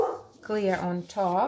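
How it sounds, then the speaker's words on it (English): A dog barking indoors in a resin art studio, a couple of yelping barks close by, overlapping with a person talking. "Excuse the dog barking"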